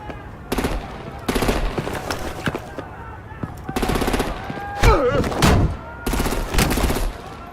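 Gunfire aimed at vehicles in the Batman Telltale Series game, The Enemy Within episode 2: several loud bursts of automatic fire in repeated volleys, with a voice talking between and under them.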